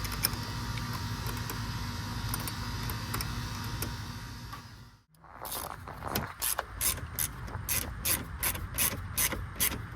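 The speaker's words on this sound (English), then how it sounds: "Grab a 10 mil wrench, I believe. We'll snug that down." A 10 mm wrench snugs a battery cable down on a Ford F250, giving a close run of quick metallic ratchet clicks after a few seconds of steady background hum.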